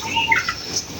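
Pigeons, hens and roosters peck at scattered feed, with a few short, bright chirps close by over a quiet background.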